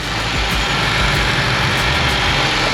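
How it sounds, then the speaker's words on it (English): A Mitsubishi Evo X engine idles steadily and smoothly up close, a continuous low rumble with no talk over it. "The engine sounds smooth, you know, it really does."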